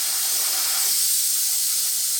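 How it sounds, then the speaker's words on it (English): An airbrush sprays Badger cleaner through in one steady, airy hiss lasting a couple of seconds, close and even in loudness without pauses or talk. "Use a little bit of this Badger cleaner, spray it through"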